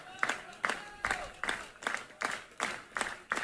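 A baseball crowd at a college game between CSUN and Oklahoma claps in a steady rhythmic beat, about two claps per second, to support their closer. The claps sound moderately distant and carry across the ballpark.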